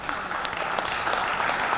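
Audience clapping at a college presidential inauguration, a dense, steady patter of many hands filling the room for a couple of seconds without a break.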